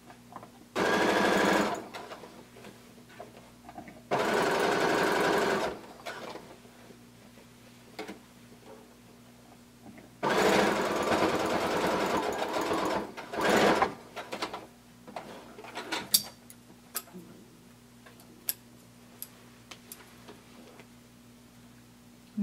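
A sewing machine stitches the hem of a blanket coat in three loud rapid bursts, close by, followed by softer ticks and clicks of the mechanism as the fabric is adjusted.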